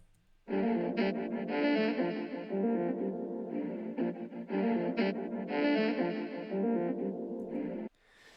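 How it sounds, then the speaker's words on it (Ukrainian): A saxophone-like melodic loop for a beat plays solo, sustained reedy tones with heavy effects and echo, steady and continuous for about seven seconds before cutting off. "Щось такого типу саксофона."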